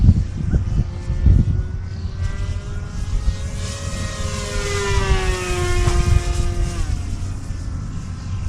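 A small RC airplane flies under a gray sky, its buzzing propeller motor droning steadily and shifting in pitch as it passes overhead, fairly close, with no talk.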